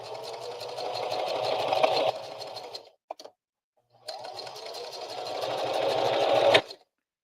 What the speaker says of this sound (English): We'll just sew that up real quick.